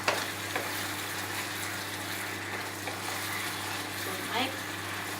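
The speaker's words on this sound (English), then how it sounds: "for a couple minutes stir fry" Carrot and broccoli stir-fry in a pan for Chinese fried noodles, giving a steady moderate sizzle punctuated by a few scraping stirs, with an extra burst of crackle toward the end.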